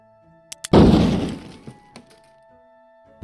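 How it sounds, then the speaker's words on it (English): Explosion sound effect made for game sound design: two small clicks lead into one loud, sudden blast whose rough, debris-like tail fades over about a second. "explosions,"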